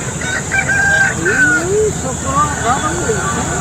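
An Aseel rooster at a poultry bazaar in Bangladesh crows loudly and nearby, with rising and falling calls and clucks from other fowl, amid market chatter and people talking.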